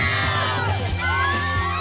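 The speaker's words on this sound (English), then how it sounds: "I think I've never heard that particular pitch of scream from that many people at once." A large crowd of Twilight fans screams at once at a New Moon fan event, a loud, sustained, high-pitched mass of shrieks and whoops that swells and overlaps throughout.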